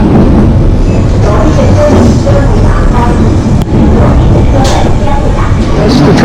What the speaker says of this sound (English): That's the train going back to Hong Kong.